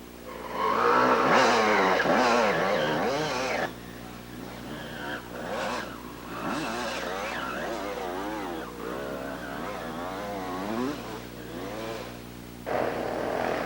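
Dual sport motorcycle engine revving hard as it climbs a steep muddy hill on a 1993 trail ride near McArthur, Ohio, loud and strained with rising and falling pitch, speech faintly mixed in.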